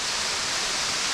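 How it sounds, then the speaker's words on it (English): Water pours steadily down at Waterfall Swallet, a limestone sinkhole in Derbyshire, a close, loud, unbroken hiss and rush of falling water with no other sounds. "the waterfall comes down and it doesn't escape"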